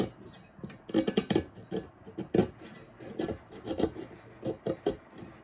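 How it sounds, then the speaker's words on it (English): A craft knife scrapes hardened epoxy off the rim of a painted cup in short, close, rasping strokes. The strokes repeat in uneven bursts with small gaps between them. "I'm gonna go in with my craft knife. I have some epoxy up here at the top. And I'm just gonna carefully scrape that."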